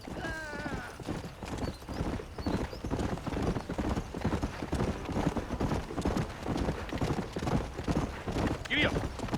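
Horse hooves in the Red Dead Redemption video game clop in a steady, rapid galloping rhythm throughout, loud and close, with a brief whinny near the start and talking over the hoofbeats.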